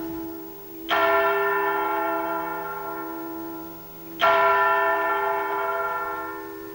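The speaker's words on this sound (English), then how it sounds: "the bells of the landmark clock tower will continue to ring out over the town for many years to come" Two deep, resonant strikes from the tower bells of the Beechams clock tower in St Helens, each ringing out loud and slowly decaying, about three seconds apart, with no voices.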